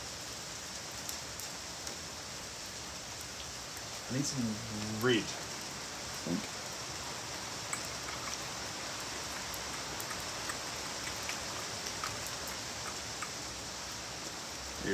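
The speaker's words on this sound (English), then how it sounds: "That noise in the background is the rain" Steady rain outside a small studio gives a soft, continuous hiss in the background while a person talks briefly near the middle.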